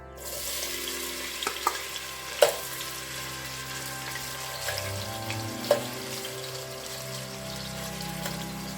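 Chopped onions fry in melted coconut oil for a tomato-based okra stew, a steady close sizzle running throughout with a few sharp utensil clicks and pops and no talking.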